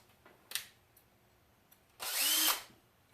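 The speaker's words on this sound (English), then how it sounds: "I've incorporated power drill." A power drill used while cleaning a suppressed .308 Alpha rifle suppressor, a short whirring burst near the end after a couple of faint clicks and handling sounds, close and moderately loud.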